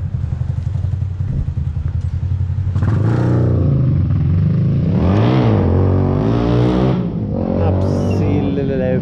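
Motorcycle engine idling with a rough low clatter, then revved loudly several times close by, while people talk over it.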